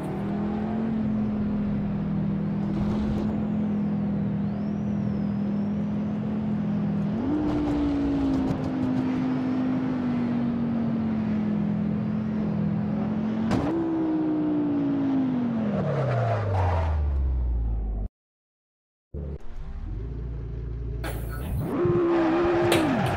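Hypercar engine in a racing video game, a loud steady drone that climbs and drops with gear changes, one long pitch sweep down, then a brief cut to silence before the revving resumes.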